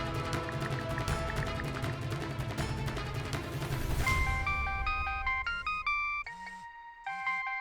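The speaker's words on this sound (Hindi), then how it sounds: "गुड्डू का फोन" A phone ringtone plays a repeating electronic melody after a stretch of busy background music, loud and close, with no one speaking.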